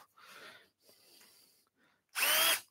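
A power drill whirs in short bursts, a couple of softer runs followed by one loud, high-pitched burst as it bites into a wooden hand mirror blank.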